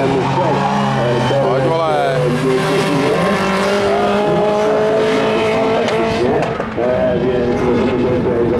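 Rallycross race cars in a Czech championship heat at Poznań, engines screaming and revving through gear changes with tire noise, loud and continuous, under a commentator talking throughout.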